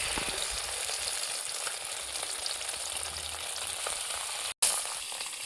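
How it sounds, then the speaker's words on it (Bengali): Rohu fish pieces frying in hot mustard oil in a wok, a steady close loud sizzle and crackle throughout with a brief cut near the end. "এই যে মাছগুলো এবারে ভেজে নেব একে একে।"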